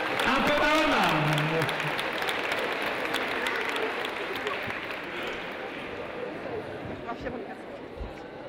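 An audience at an award ceremony applauds the boys, a broad, steady patter of clapping that starts loud and slowly thins, with a voice speaking over the opening.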